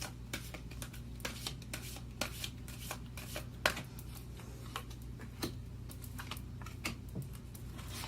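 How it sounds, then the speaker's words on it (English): Soft papery riffling of a tarot card deck being shuffled, with repeated light snapping bursts over a low steady hum, moderately quiet and close. "I do shuffle these in front of you so you see me picking them."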